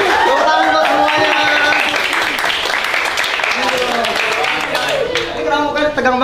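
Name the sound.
classroom students clapping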